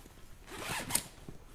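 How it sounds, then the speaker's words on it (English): Zippers on an Eberlestock Skycrane II tactical backpack being undone: one smooth, quiet zip pull with a sharp tug at the end and a small follow-up rustle, close and alone. "I'm going to undo the zippers that hold the little brother pack into the core"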